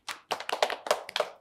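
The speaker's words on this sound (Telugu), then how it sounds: "super super, claps" A small studio audience clapping for a child singer, a short ragged burst of several quick hand claps, close and crisp, with no talking.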